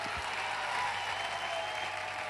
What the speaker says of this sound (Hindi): मैं चाहूंगा कि परिमल सर के लिए एक जबरदस्त तालियां जरूर होनी चाहिए।